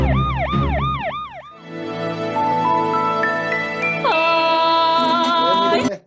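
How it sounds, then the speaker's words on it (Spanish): Ambulance siren heard up close, first a rapid rising-and-falling wail, then a long steady two-tone pattern that shifts pitch midway before cutting off abruptly. "¿Esto es una ambulancia?"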